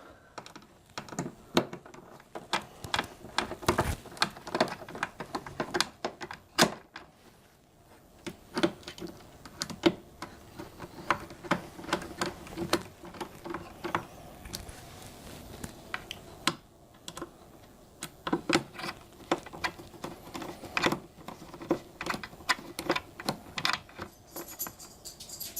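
Screws being driven into a monitor mounting bracket for a Samsung 43-inch curved monitor, giving a steady run of close, sharp clicks and ticks in irregular bursts that continue throughout.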